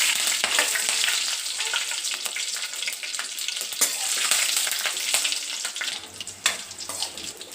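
Mustard seeds, curry leaves and green chillies sizzle in hot oil in a pan, a continuous bright crackling hiss with small pops and stirring clatter, close and steady throughout.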